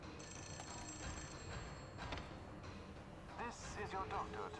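A telephone rings in the horror video game The Suffering, with repeated electronic ring bursts that are moderately faint under dense game ambience and someone talking.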